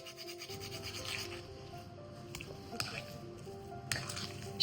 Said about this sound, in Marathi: आणि छान जायफळ खिसून घालतोय